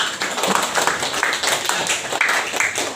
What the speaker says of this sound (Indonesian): itu ya, tepuk tangan